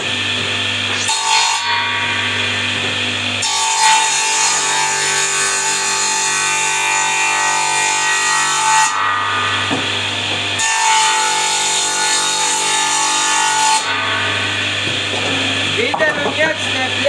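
Firewood being cut with a power saw, a loud, steady buzzing drone that runs in long stretches with short breaks between cuts, close to the listener.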